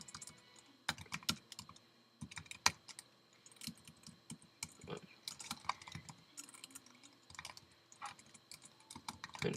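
Busy typing on a computer keyboard sounds close and clear, with bursts of sharp key clicks and short pauses between runs, and no speech over it.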